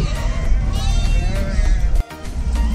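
A lamb carried along by nomadic herders on the mountain road from Manali toward Rohtang bleats repeatedly amid steady engine and road rumble, its calls clear and fairly close, with a brief dip in the background noise.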